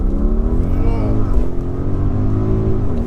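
A 2023 Audi RS Q8 accelerating hard under launch control, a loud, deep engine roar with rising and shifting tones throughout, heard from inside the cabin.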